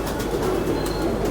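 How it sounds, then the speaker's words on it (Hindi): A pure Tonk breed pigeon cooing softly amid low background noise, a brief continuous murmur lasting just over a second, with no talking. "ये आ गया प्योर टोंक का कबूतर"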